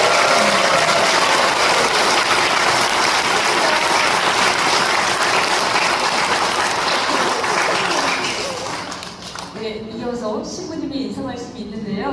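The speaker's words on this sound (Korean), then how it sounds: "다시 한번 뜨거운 박수 부탁드립니다" An audience at a church feast-day celebration for an assistant priest gives long, loud applause that fills the room, then fades toward the end as a few voices and lighter clapping remain.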